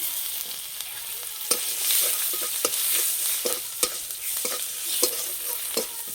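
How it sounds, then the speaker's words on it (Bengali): Dried red chillies, whole cumin and crushed garlic sizzle steadily in hot oil in a pan, a continuous bright frying hiss broken by several sharp spoon clinks and stirring knocks, close and alone. "ভর্তার জন্য মশলা ভেজে নেব। দেব শুকনো লঙ্কা, গোটা জিরে, থেতো করা রসুন"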